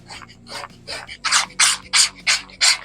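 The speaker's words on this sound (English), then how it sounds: "So then you can sand down all this oxidation and everything." Oxidized car paint being wet sanded by hand with fine sandpaper, about eight rhythmic back-and-forth rasping strokes, close and growing louder, over a faint low hum.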